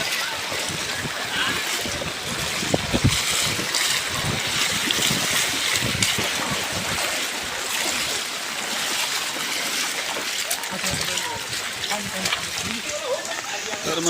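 Heavy monsoon downpour flooding Nalasopara, where railway tracks lie underwater: a dense, continuous hiss of rain and rushing water, steady and loud throughout.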